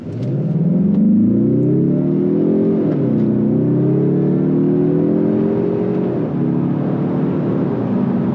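A 2024 or 2025 Mazda 3 turbo engine accelerates, heard loud and steady from inside the cabin. The engine note climbs in pitch, drops at two gear changes, then climbs again.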